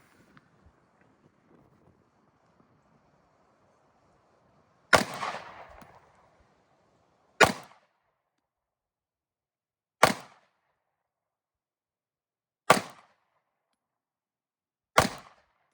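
A Canik MC9 Prime pistol fires five single shots outdoors at about 6 to 7 yards, each a sharp loud crack followed by silence, spaced roughly two and a half seconds apart, with faint wind noise before the first.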